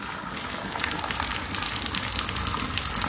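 Floodwater rushes and gushes in front of a house, a steady splashing flow with brief surges, fairly close and with no voices.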